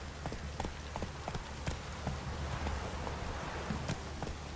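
A horse gallops at speed in The Witcher 3, rapid rhythmic hoofbeats thudding close and steady under light ambient rustle, with no talking.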